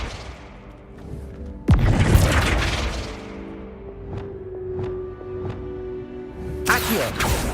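Spell effects fire in the Hogwarts Legacy video game, with a loud blast and crash, a sustained humming tone, a series of short sharp zaps, then another burst at the end.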